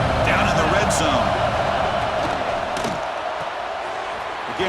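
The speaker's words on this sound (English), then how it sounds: "And the crowd coming to life here trying to help this defense down in the red zone." Stadium crowd noise in EA Sports College Football 26 rises as a dense, continuous roar behind a red-zone defensive stand, with a commentator talking over it and a few sharper shouts and bangs early on.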